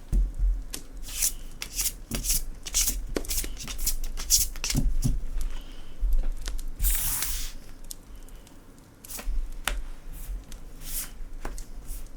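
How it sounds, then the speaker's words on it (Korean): Tarot cards are shuffled by hand close up, with crisp riffling flutters and soft slaps of the deck coming in irregular bursts, a longer riffle partway through, and no talk. "카드 뽑아보도록 할게요."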